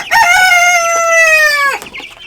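A single silkie chicken lets out one loud, close, drawn-out call lasting over a second before breaking off.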